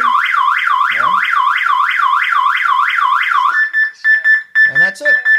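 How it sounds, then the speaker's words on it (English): A PiSector outdoor wireless alarm siren wails loud and close in a fast rising-falling sweep, then cuts to a steady tone broken by short beeps, with a voice briefly talking over it. "Your alarm, your wireless alarm, is now hooked up."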